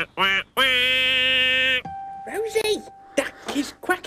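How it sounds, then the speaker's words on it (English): A toy or puppet duck on a children's programme quacks in a few long, nasal, honking calls near and loud, followed by speech. "Rosie, duck is quacking, he's quacking"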